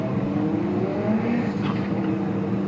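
Nissan R32 Skyline drift car with a 34-style front, its engine droning and revving at a D1NZ Pro Championship qualifying round at Manfeild, a continuous loud motor tone with rising pitch sweeps and no talk.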